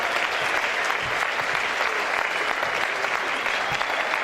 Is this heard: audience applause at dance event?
yes